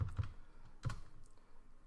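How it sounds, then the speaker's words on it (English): Someone setting up a Linux server types on a computer keyboard, a few soft close-up key clicks in quick clusters, fairly quiet in a still room. "I keep typing in the wrong place here."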